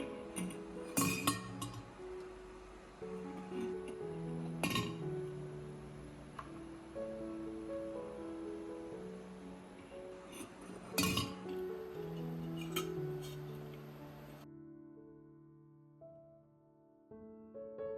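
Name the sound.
eggs placed into a thermos jar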